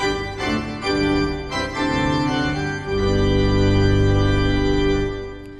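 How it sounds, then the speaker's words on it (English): A clean, well-tuned pipe organ sound from a Bugari Evo, voiced as a modern concert church organ, plays several rich, sustained chords, building to a long, deep held chord with strong bass. "is like a modern concert church organ."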